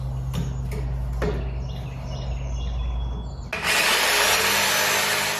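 A power tool cuts notches into wood boards for a bench with coat hooks. A low steady motor hum runs first, then a loud, bright, continuous cutting roar sets in and holds to the end.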